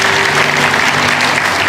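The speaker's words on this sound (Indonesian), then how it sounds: "Yang percaya kasih tepuk tangan untuk Tuhan." A church congregation applauds for God during a sermon, a dense, steady wash of clapping from many hands at a loud level throughout, with no voices standing out.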